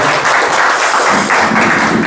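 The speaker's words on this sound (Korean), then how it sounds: "귀한 강연 해주신 우리 김규나 작가님에게 다시 한번 큰 격려의 박수 한번 드려드리겠습니다" Audience applauding a Korean author at the close of her lecture at a book concert, a steady dense wash of clapping filling the room at close range, with no talk over it.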